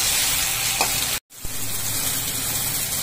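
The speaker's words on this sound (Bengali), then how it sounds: "এবার একটুখানি নাড়ি। এখনো পেঁয়াজটা অনেকটা ভাজতে হবে, টমেটো পেঁয়াজ।" Onion and tomato fry in a pan with a steady dense sizzle, broken by a brief gap and a stir, then the hiss continues close and even.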